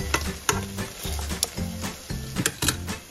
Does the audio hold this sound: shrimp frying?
yes